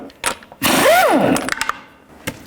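On a 1999-2007 Chevy Silverado 2500HD front wheel, a power tool with a socket spins lug nuts off in one loud burst of about a second, its whine rising and falling, followed by a few light metallic clinks.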